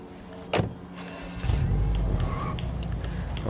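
A car driving in the zombie survival video game State of Decay 2, with a door-like thump early on, then a steady engine rumble building and continuing to the end.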